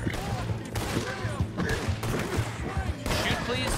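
Gunfire in the Western video game Red Dead Redemption 2, a dense burst of shots and impacts crackling through a busy scene, with talk over it and continuous game noise throughout.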